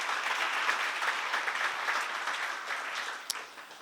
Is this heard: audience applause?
yes